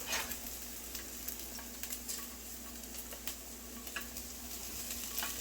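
Hamburger meat fries with onions in a pan, giving a steady, fairly quiet sizzle with scattered small pops and a few faint scrapes of stirring, and no voices.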